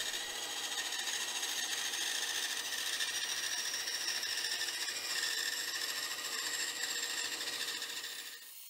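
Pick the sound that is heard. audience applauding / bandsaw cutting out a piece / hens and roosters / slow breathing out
bandsaw cutting out a piece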